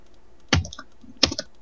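Computer keyboard typing during a Minecraft Sky Factory session, two short quiet bursts of clicking keystrokes separated by a pause.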